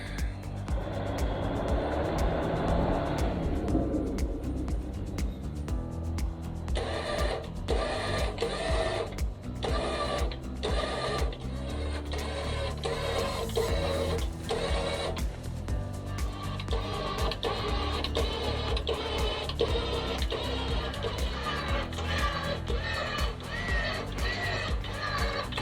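A vehicle winch pulls on a rough mountain trail with a loud, continuous motor whine and grinding that changes pitch throughout and breaks into repeated short pulses midway, with engine rumble beneath.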